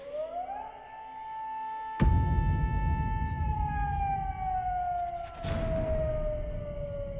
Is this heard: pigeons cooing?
no